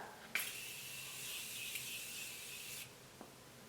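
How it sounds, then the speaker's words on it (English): Morphe Continuous Setting Mist sprays in one long, fine, continuous hiss of about two and a half seconds, close and fairly soft, then stops, followed by a faint tap. "I am going to go in with a more matte setting spray. This is the Morphe Continuous Setting Mist"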